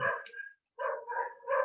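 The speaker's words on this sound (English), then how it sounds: "I'm sorry about my dogs." Household dogs bark in close, loud bursts, with a short pause between the first bark and a quick run of several more. No speech can be heard.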